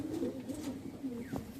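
Pigeon cooing at close range, a soft low throaty warble running steadily throughout, with a brief higher note near the end.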